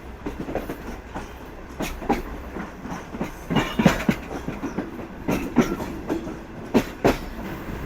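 An express train running between Peshawar and Karachi approaches Jungshahi railway station at night, its wheels beating a steady clickety-clack over the rails with repeated sharp rhythmic knocks under a continuous rumble.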